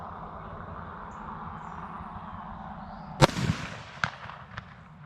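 Three distinct revolver shots from a .500 JRH Magnum Research BFR fired outdoors, the first loud and sharp, followed by two fainter reports, over a steady low background hum.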